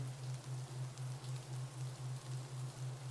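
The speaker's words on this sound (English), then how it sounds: "the steady rain turns to pounding, thick drops of water." Steady, dense rain falls throughout, a broad hiss with a low pulsing hum running beneath it.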